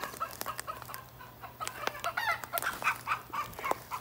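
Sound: chickens clucking

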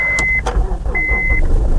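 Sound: Honda CR-V engine starting with a jump pack

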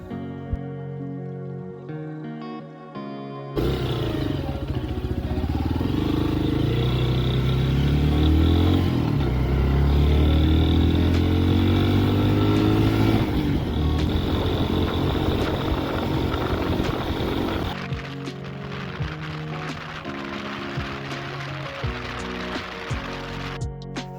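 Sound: enduro motorcycle riding

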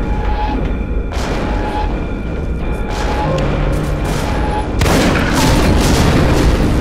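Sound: gunshots and exploding barrels killing guards, from the video game Velvet Assassin

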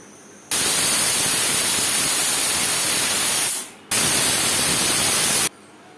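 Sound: pressure cooker whistling while cooking mutton curry

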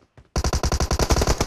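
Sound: gunfire in PUBG Mobile video game

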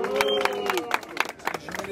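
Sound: crowd cheering at a rap battle for Kroy

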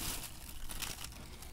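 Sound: plastic bag crinkling while emptying a handheld vacuum

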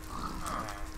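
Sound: pig grunting

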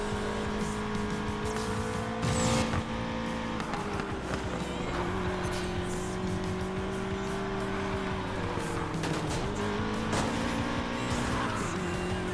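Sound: car engine pushed hard in Need for Speed Payback video game

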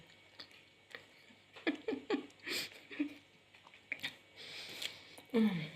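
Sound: chewing food during mukbang

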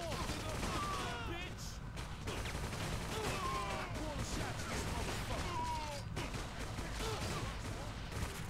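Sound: gunfire in the video game 50 Cent Bulletproof

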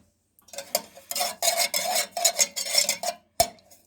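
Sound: stirring menengiç coffee in a pot on the stove

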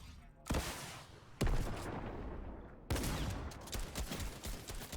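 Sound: gunfire in the video game Fortnite

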